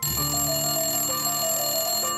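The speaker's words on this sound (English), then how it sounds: "literally dialing you up and ringing" Telephone bell ringing loudly and continuously, an insistent electronic ring repeating close by with no voices.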